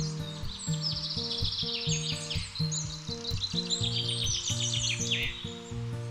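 Common forest birds chirp and tweet in quick overlapping calls over a steady synthesized musical backing, the birdsong bright and busy above the sustained notes.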